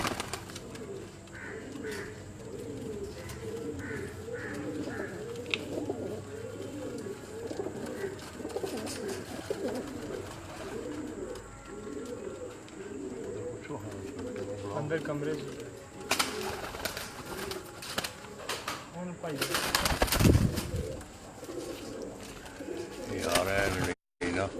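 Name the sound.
pigeons cooing in their cages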